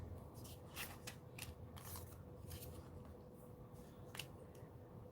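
Craft scissors snip close by in a series of quick, light cuts at uneven intervals, quiet against a faint room hum.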